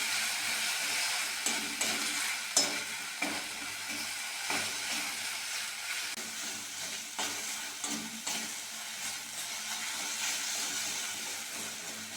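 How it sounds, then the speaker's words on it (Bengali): Poppy seed and cashew paste frying in a pan, a steady close hiss and sizzle running throughout with occasional soft scraping taps of stirring, no voices. "পোস্ত আর কাজুটা ভালো করে ভেজে নিয়েছি"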